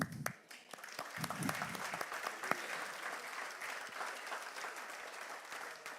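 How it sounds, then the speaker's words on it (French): A church congregation claps during a sermon, a few scattered claps and a voice at first, then swelling into steady moderate applause that continues evenly, somewhat distant. "C'est pour ça qu'il faut applaudir Jésus"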